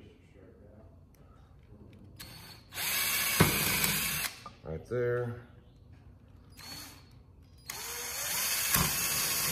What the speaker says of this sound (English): So what we're going to do is re-drill this hole.